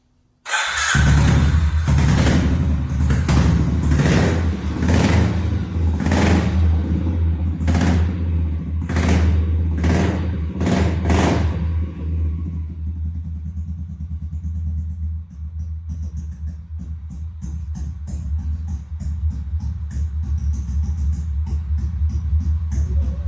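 A black vehicle's engine, started by remote or key, idles with a deep steady rumble and is revved in a series of sharp bursts early on, then settles back to a low idle close by.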